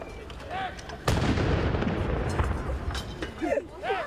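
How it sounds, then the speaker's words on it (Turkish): One cannon of a 21-gun artillery salute for Republic Day in Lefkoşa fires a single loud boom that rolls into a long rumble. Faint voices and outdoor sounds come before and after. "21 pare top atışıyla başladı"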